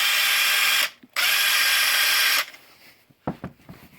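A Makita XWT08 brushless high-torque impact wrench runs at speed 1 in two loud, close bursts of rapid hammering, split by a brief pause, then stops and leaves a few handling knocks.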